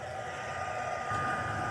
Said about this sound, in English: So I'm going to take my heat tool. I'm going to get that warm.